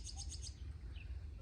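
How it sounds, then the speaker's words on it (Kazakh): A nightingale singing in a garden, a few faint distant chirps and trills over a low background rumble. "Бұлбұл құс болса әнекей сайрап тұр."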